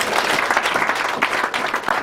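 A church congregation bursting into applause, dense close clapping from many hands sustained for about two seconds.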